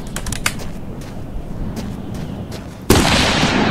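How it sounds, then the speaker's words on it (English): Gunfire in The Long Drive: a rapid burst of sharp close shots at the start, a quieter stretch of scattered reports, then a sudden loud broadband blast of sustained fire near the end. "Oh my god, this gun's so fun!"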